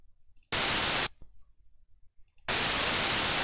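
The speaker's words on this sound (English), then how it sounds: "So here we have 1 second of a white noise" Bursts of white noise test signal, each about a second long, cut on and off abruptly: a loud flat hiss, then a near-silent gap with faint low rumble, then the hiss returning just as loud.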